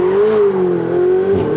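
A Ferrari 488 Spider engine sings with a steady, loud, smooth tone as the car accelerates, heard alone with no talking.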